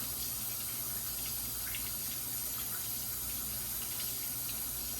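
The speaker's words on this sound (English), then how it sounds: "So rinse it off. Rinse it off real good." Tap water running steadily while rinsing Nappa cabbage and romaine lettuce, a faint continuous splashing rush with no talk.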